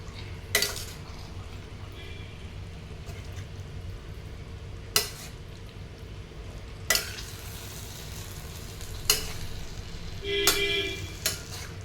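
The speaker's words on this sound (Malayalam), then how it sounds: "ചെമ്മീൻ ആഡ് ചെയ്തിട്ട് നല്ലതുപോലെ ഇളക്കി കൊടുക്കുകയാണ്" Prawns frying in a pan as they are stirred, giving a soft, steady sizzle with a few sharp clinks of a utensil against the pan scattered throughout.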